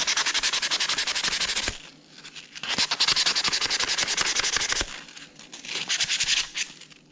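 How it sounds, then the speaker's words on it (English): Close, harsh rasping of a motorcycle fuel tank being sanded down by hand in quick back-and-forth strokes, broken by short pauses and resuming in bursts, with no talking. "Sand down the tank."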